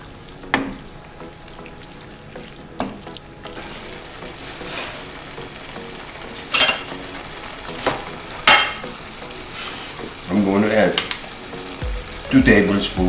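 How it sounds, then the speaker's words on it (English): Wine simmers off its alcohol in a ragu bolognese sauce, making a steady low bubbling sizzle broken by several sharp knocks and stirring clatters near the end, with nobody speaking over it. "Let it simmer the alcohol off, and that same wine is going to leave a flavor to the ragu"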